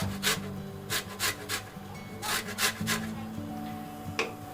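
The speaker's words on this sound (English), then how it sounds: "While it's doing that, I'm adding some lemon zest" Lemon zest being grated over peaches cooking in a pan for a peach tarte tatin: a run of quick, close rasping strokes in short rhythmic bursts over a low, steady background.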